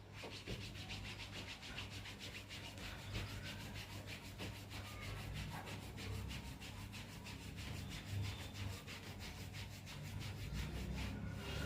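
Hands rubbing skin in a steady back-and-forth massage stroke over the chest to strengthen the lungs, a continuous soft, rhythmic friction that is close and quiet, with no talk.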